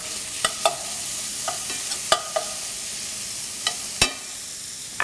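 Bacon fries in a pot for classic baked beans, a low steady sizzle close by, broken by several sharp clacks and scrapes of a utensil stirring against the metal, with no talking.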